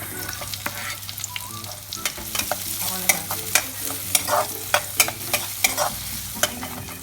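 Garlic and onion sauté in a pan for ginisang upo, with a low steady sizzle and repeated sharp scrapes and clacks of a utensil stirring, no voices.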